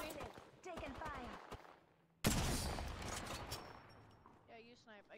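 Gunfire in the battle royale game Apex Legends, with faint shots under speech at first, then a sudden loud burst of heavy fire that slowly fades, and players talk over it.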